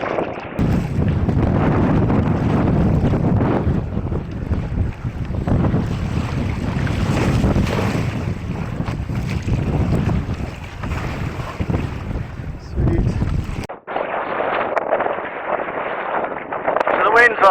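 Steady wind at sea buffets the microphone while kayaking on an ocean tide, a loud continuous roar with low rumble that cuts off abruptly near the end and returns thinner.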